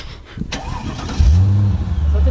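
A Mercedes CL500 engine cranks and catches, settling into a loud, steady low idle that runs on after the start.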